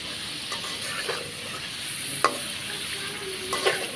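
Singi (stinging catfish) sautéing in spice paste in a pan, a steady close hiss of frying broken by a few scraping stirs across four seconds, no talking.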